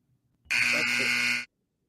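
A single loud electronic podcast buzzer blares for about one second, a harsh steady buzz that starts and cuts off abruptly, with silence on either side.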